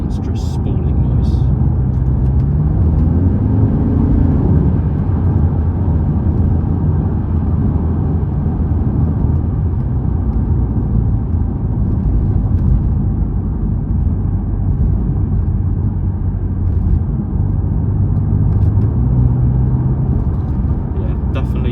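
A BMW M car with the S63 twin-turbo V8 and DCT gearbox drives along, giving a dense low rumble with a couple of rising rev swells, while a voice talks over it almost continuously.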